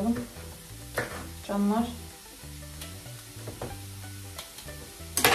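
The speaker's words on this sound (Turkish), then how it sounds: "Evet, tavuk göğsünü de ekledim soğan yanına." Chicken breast and onion frying in a pan, giving a steady low sizzle with brief stirring scrapes and clatter, heard close beneath background noise while a person speaks briefly in Turkish.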